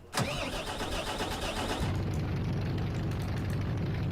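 A car engine in the Garry's Mod video game cranks and catches, then settles into a steady, loud running drone that carries through to the end.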